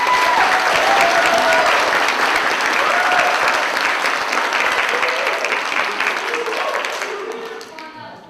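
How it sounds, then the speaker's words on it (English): An audience at a junior summer camp show claps loudly, a dense, sustained ovation with some cheering voices mixed in, holding steady before fading out toward the end. "Let's give them a round of applause."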